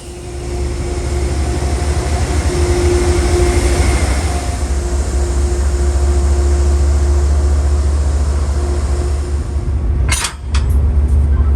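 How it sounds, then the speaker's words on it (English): Amtrak locomotive number 702 backing onto the rear of the private railcar Francis L. Suter, a loud steady diesel drone with a low tonal hum, plus a brief clank near the end. "Amtrak number 702 disconnects from its full set of Amfleet cars, then backs onto the rear of the Francis L. Suter."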